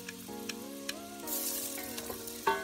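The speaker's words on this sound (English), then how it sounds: "While the onion and garlic are being fried, we add the celery." Onion and garlic fry in extra virgin olive oil in a pot, a soft steady sizzle under a tonal hum, with a few sharp stirring taps and a louder burst near the end.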